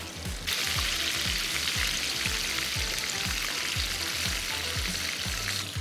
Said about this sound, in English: very beautifully frying these, and literally they take like almost like 45 seconds to cook